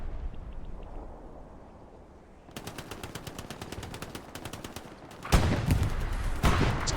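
Machine gun fire crackles in rapid rhythmic bursts during a multiplayer tank and infantry video game match. A louder, heavier burst and blasts arrive near the end over a windy background.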